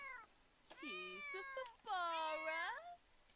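A kitten in The Sims 4 life-simulation game gives two clear, drawn-out meows, the second longer and louder, close and alone.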